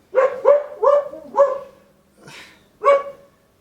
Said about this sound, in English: that's Floss barking now.